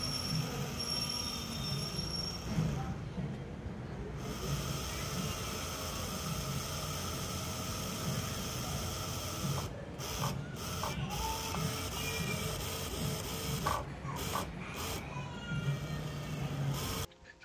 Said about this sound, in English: using the transmitter stick, I can control the motor rotation along with the speed